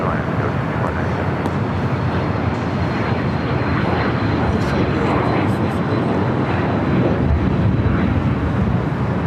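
A Delta Airlines Boeing 737-900ER arrives on the north side at LAX with a loud, steady jet engine roar and wind rumble that persists throughout, while someone talks over it.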